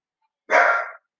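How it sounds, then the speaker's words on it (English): A single dog bark rings out alone in a quiet room, short, sharp and fairly loud. "sorry about my dog in the background"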